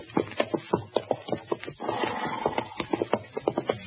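Horse hooves clop in a 1952 Gunsmoke radio western drama, a brisk, close run of hollow knocks in an uneven trotting rhythm with a brief shuffling patch midway and no talk over it.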